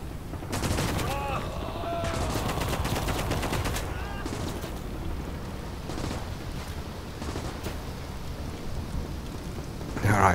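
Artillery fire in the video game Gates of Hell, rapid bursts of gunfire and booming impacts over a constant rumbling battle background, with a loud blast right at the end and some speech in the mix.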